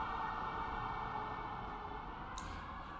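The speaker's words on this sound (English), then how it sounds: "There's an ambulance going by." An ambulance siren passes at a distance, a steady wailing tone held under broad traffic-like background noise for about three seconds, with no talking.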